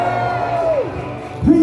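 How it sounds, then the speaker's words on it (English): A Medieval Times arena crowd cheers for a knight, drawn-out whoops and yells sliding up and down over a loud background roar, with a fresh swell of shouting at the close. "Raise a cheer for Knight"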